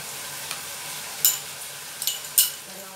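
Soy sauce is stirred into chicken adobo in a hot pan, giving a steady, even sizzle with a few sharp scrapes and clinks of the spoon against the pan.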